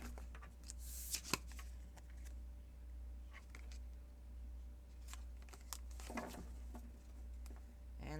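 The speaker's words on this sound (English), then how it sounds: "2 more shuffles." Tarot cards are shuffled by hand in quick, soft papery bursts with scattered sharper snaps, close and fairly quiet, with no one speaking.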